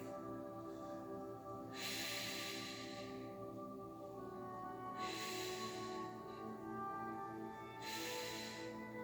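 Three slow, deep breaths with a soft hiss, spaced about three seconds apart and taken during a yoga pose, heard over a steady sustained musical drone.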